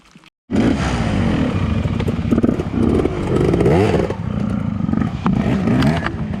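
An off-road motorcycle climbs a difficult trail at idle throttle. After a brief quiet, its loud, close engine drone cuts in abruptly and carries on steadily, mixed with clattering and scraping.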